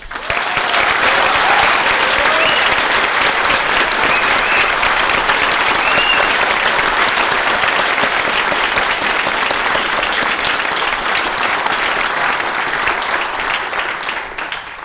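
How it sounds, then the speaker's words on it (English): Loud, sustained applause from a large crowd at a graduation commencement ceremony, steady and vigorous throughout before tapering slightly at the end. "please give them an enthusiastic round of applause"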